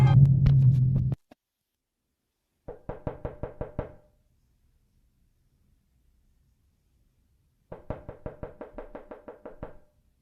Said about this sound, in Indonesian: ada seseorang yang mengetuk pintu rumah si TSV